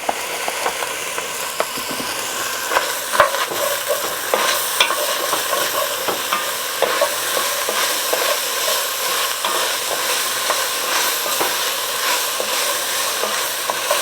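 Two medium chopped onions fry and are stirred in a pot for a beef stew, a loud, steady close sizzle broken by frequent scraping strokes of the spoon, with no voices.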